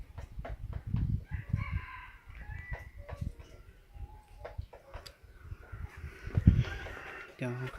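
A red-and-yellow rooster crows several times among clucking fowl in a farmyard, with people talking in the background throughout.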